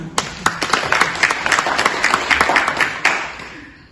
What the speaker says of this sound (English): Can you please give the council a round of applause?